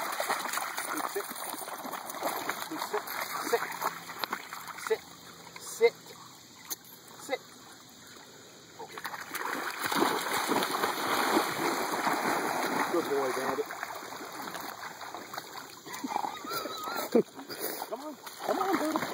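Dogs swimming and splashing in water, with irregular splashes and sloshing close by over a running stream-like wash, broken by a brief quieter stretch; a person talks and calls out over the water noise.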